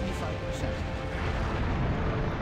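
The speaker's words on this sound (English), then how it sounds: "I hear explosions." A dense, rumbling roar of explosions churns continuously during a Star Trek starship battle game, low and heavy, with a sustained booming wash throughout.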